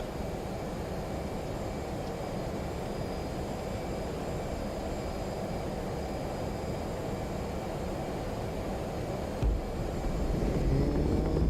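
Jet aircraft launching off a carrier deck in the DCS flight simulator, a steady loud roar of engine and rushing air holding level throughout, with a brief thump near the end as the noise swells slightly.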